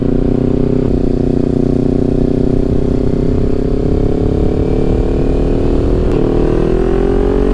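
A Kawasaki Ninja 400 motorcycle cruises on a road, its engine droning loud and steady close to the microphone with a gradual rise in pitch as it accelerates.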